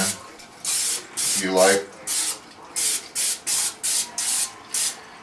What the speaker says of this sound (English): you can spray your pan